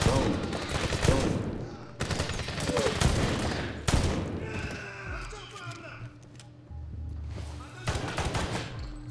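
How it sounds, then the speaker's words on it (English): Shotgun blasts in the video game Medal of Honor, three heavy booming shots spaced about two seconds apart, each followed by a ringing tail over a busy in-game background. "Let's get the good old shotgun out."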